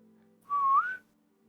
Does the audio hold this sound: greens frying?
no